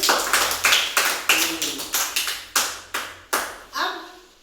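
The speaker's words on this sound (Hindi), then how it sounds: "ताली बजाइए भाई" Children in a basic maths class clap hands in a short, ragged burst of about a dozen sharp claps that thin out and fade, nearby and without talk.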